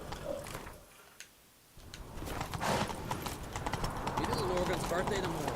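Hoofbeats of Roach, Geralt's horse in the video game The Witcher 3, clip-clop at a steady run after a brief lull, with game sounds and someone talking over them.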